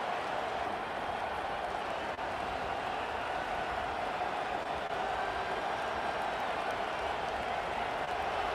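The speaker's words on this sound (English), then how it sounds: "This crowd trying to make life miserable for this offense." A stadium crowd in a College Football 25 game roars as a steady, broad wash of noise, loud and unbroken throughout with no distinct claps or chants standing out.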